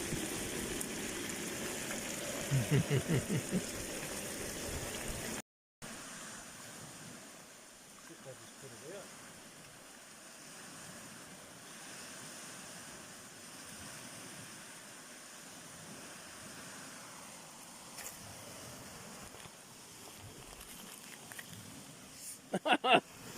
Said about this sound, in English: On Lake Brunner, where it's raining and windy